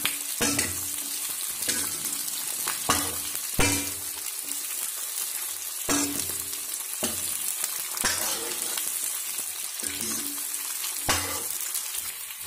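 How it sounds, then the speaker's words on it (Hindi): Capsicum fries in oil with a close, constant sizzle, broken every second or two by bursts of stirring that make the crackle swell. No one speaks. "देखिए शिमला मिर्च डाल दी है, और इनको भी तेल के अंदर बिल्कुल थोड़ा जो है फ्राई कर लेंगे"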